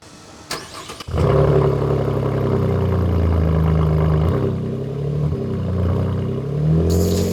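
A couple of sharp clicks, then a Chevrolet Colorado pickup's six-cylinder engine catches and settles into a deep, steady exhaust rumble with slight rises in revs, heard up close.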